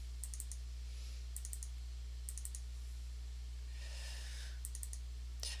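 Mouse clicks in short bursts of several quick taps, spaced a second or so apart, as files are picked in a Revit import dialog; close and crisp over a low steady hum, with a faint rustle midway.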